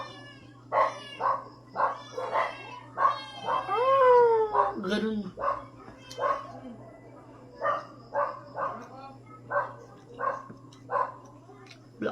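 Dogs bark in a steady string of repeated, sharp yelps, fairly close, with people talking alongside and one longer whining call in the middle.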